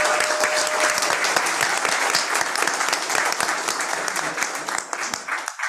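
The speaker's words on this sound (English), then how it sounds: "can we give one more round of applause to all the amazing students that were called up" Audience at a school board meeting applauds the students, a loud continuous wash of clapping from many hands that fades slightly toward the end.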